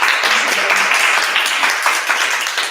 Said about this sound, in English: I would like, another round of applause for Panagiota.